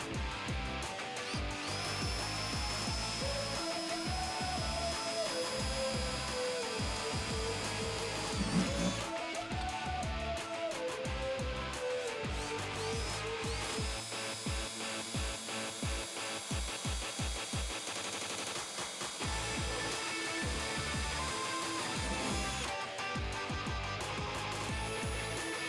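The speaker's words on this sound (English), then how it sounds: "we're gonna go around and drill all of them. We're gonna use a 1/4-inch drill bit." A power drill with a 1/4-inch bit drills holes in the body of a 1987-1995 Jeep Wrangler YJ to fit fender flares, whining in long runs that rise and fall in pitch, broken by short pauses.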